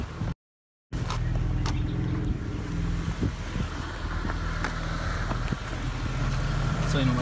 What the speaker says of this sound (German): Ich werde mal den Motor anmachen